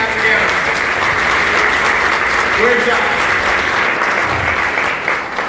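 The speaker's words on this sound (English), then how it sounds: "One more round of applause" Conference audience applauding steadily throughout, a dense sustained clapping with a voice briefly speaking over it.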